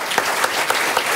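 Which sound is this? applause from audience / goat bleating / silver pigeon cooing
applause from audience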